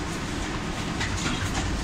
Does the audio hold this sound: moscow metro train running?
yes